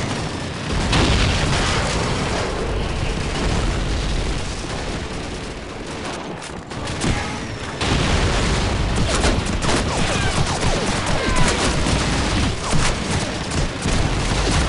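Dense, continuous gunfire and booming explosions from a Call of Duty 2 battle, loud and sustained throughout with bursts of shots layered over rumbling blasts and no clear talk.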